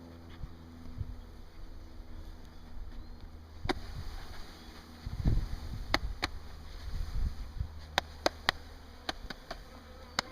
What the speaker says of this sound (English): There's 3 pounds of bees in here, and they're mad now.